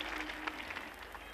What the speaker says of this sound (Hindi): एक बार सब एक साथ ताली बजा दीजिए